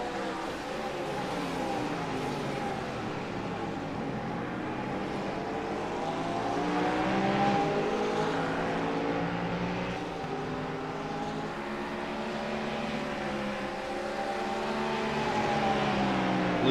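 GT3 race cars draft through the tri-oval at Daytona in a racing game, a continuous engine drone with shifting revving pitches as cars run close together.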